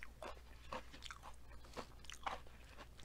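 Breaded asparagus, served alongside steak fried rice, is bitten and chewed close to the mic, giving repeated soft crunches in an irregular rhythm with no talking.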